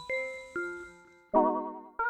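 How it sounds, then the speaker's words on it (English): A little bell synth preset called Ballerina strikes two soft chime notes, then a brighter warbling note and a final short ding, all quiet and alone. "Let's add some kind of a little bell. Ballerina."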